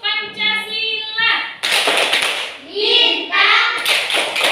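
A class of children does the Tepuk Pancasila rhythmic clapping routine, sharp patterned claps close by, mixed with children's chanting voices throughout.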